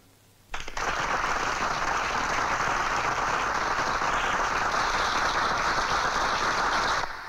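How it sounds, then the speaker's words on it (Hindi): A crowd breaks into sudden, sustained applause in a scene from the 1990s Hindi film Kohram, starting abruptly and holding steady for about six and a half seconds before cutting off. "अब मैं ये हार पहनाऊंगा ना तुम्हें, तो ये सब तालियां बजाएंगे।"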